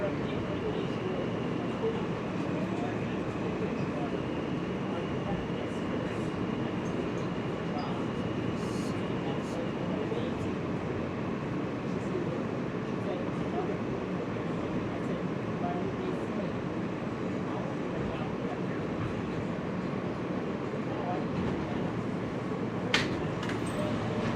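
Manhattan-bound E Express subway train running in New York, a steady loud rumble of the moving car filling the whole stretch, with a brief sharp squeal near the end.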